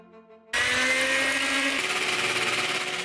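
An electric hand mixer starts abruptly and whirs loudly and steadily, blending eggs with erythritol for a cheesecake, after a brief quiet hum.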